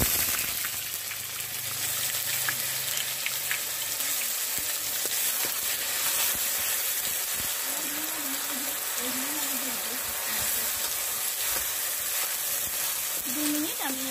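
Onion paste fries in a pan for a lemon chicken dish, with a steady, even sizzle and crackle throughout. Faint murmurs sit under the constant frying noise.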